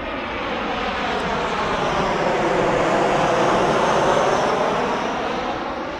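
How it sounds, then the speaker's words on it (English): A fixed-wing airplane passes overhead above a community garden, its broad engine roar swelling steadily to a peak and then gradually fading, loud and continuous with no talk. "Plane."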